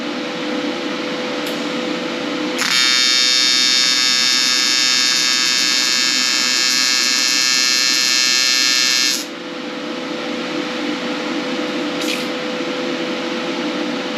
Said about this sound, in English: TIG set to AC, and you'll notice it'll sound very different